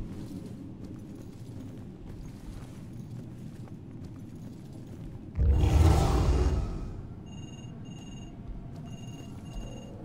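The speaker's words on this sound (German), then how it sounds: "Leute, das Telefon." In the video game Murdered: Soul Suspect, an electronic telephone ring chirps in short repeated bursts near the end, following a loud whooshing rush, over a low rumbling game background.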